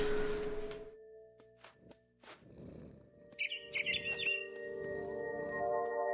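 A bird in the video game What Remains of Edith Finch gives a quick burst of high chirps and tweets midway. Quiet ambient game tones and soft rustling surround it.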